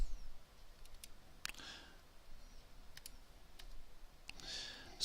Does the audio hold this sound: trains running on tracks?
no